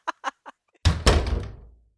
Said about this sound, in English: Oh, shut that bloody door!